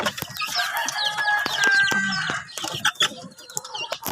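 A crowd of chicks and hens begging for feed in a backyard flock, dense overlapping peeps, clucks and a rooster crow, loud and close with continuous busy chatter.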